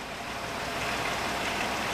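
A Chrysler Town & Country with a 3.8L engine idles on a newly installed exhaust and catalytic converter, giving a steady, faint, even hiss-like hum with no other sounds.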